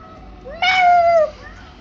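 A cat meows once in the 1666 Amsterdam video game, a single clear, rising-then-falling cry, close and loud over a quiet background.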